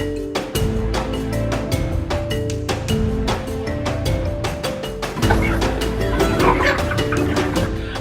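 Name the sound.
Kuroiler chickens clucking on a farm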